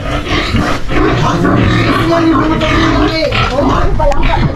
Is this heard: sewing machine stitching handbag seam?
no